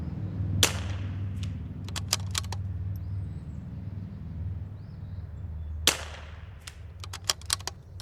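Two sharp, distant cracks from a .22LR precision rimfire rifle fired outdoors, each followed later by a few faint pings, heard over a low steady rumble.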